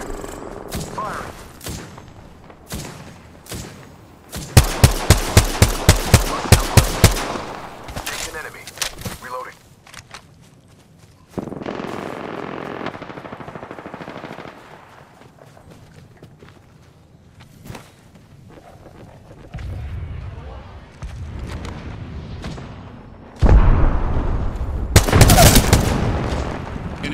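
Gunfire in Apex Legends: sparse scattered shots, then a rapid evenly spaced burst of loud reports, quieter stretches with movement, and a final loud volley; voices talk intermittently.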